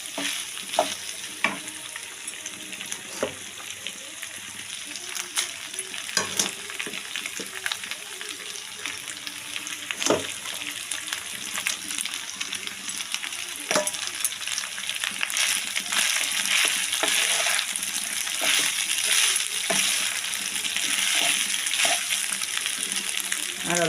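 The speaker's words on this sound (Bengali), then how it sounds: "একটু একটু চাল দেবো আর উল্টাবো" Rice sizzles and crackles in a frying pan as it is added a little at a time and stirred, a steady hiss with frequent scraping taps of the spoon throughout.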